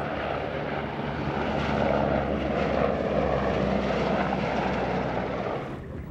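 A loud, steady aircraft engine drone fills the air, swelling slightly and then easing off, like a helicopter passing overhead nearby.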